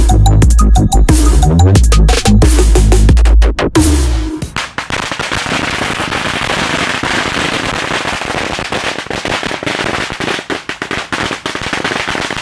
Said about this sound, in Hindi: गाइस हमने अपने मुर्गा छाप की लड़ियाँ खोल ली हैं, आओ इसको अब सजाते हैं।